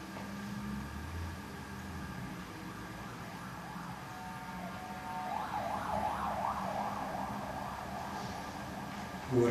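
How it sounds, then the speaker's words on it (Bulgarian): Ambulance siren passing on a nearby street, its wailing tones rising out of steady traffic rumble midway, growing louder, then fading as it goes by. "Говорихме за линейка и тя мина."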